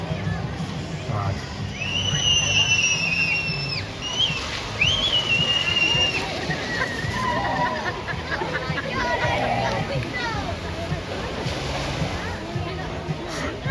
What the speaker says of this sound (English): Look at this water feature.